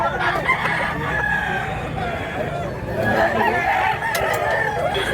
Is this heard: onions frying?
no